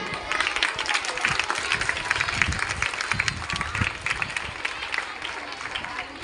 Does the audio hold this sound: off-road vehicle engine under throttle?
no